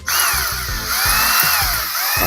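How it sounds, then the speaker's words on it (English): A power drill drills into a wall with a loud, continuous whining motor and repeated grinding bursts as the bit catches, close and steady with no voices. "I'm going to drill like where there's already a hole in the wall"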